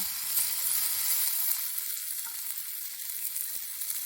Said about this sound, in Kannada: ಬೇಗ ಫ್ರೈ ಆಗ್ತದೆ ನೋಡಿ